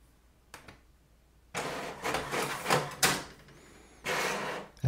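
An HP OfficeJet Pro 9125e printer running off a document: a faint click, then a close series of mechanical whirring and feeding bursts that rise and fall, with a brief high whine, and no voices.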